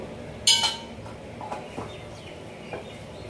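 A metal plate is picked up and set down with a sharp clink, followed by a few fainter taps and scrapes in a quiet kitchen while ghee is spread on it.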